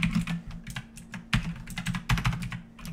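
Typing a JavaScript comment on a computer keyboard makes a quick, uneven run of close key clicks and taps in bursts, with no talking.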